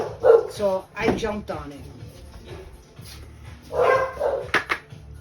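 Dogs bark loudly in two close bursts, one near the start and another toward the end, with a person speaking briefly in between.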